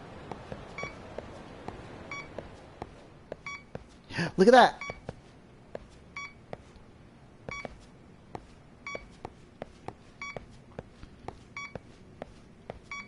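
Regular electronic beeps from the radio detector in Lost Judgment pulse steadily throughout, with a louder rising chirp partway through and a speaker's voice briefly talking over them.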